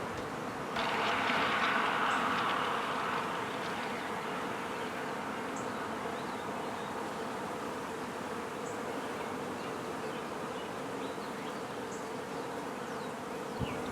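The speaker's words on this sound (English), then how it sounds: "I don't know if you can see all the bees flying around." Honeybees flying around a freshly installed hive as they orient, a dense, steady buzzing hum that fills the air, close and continuous.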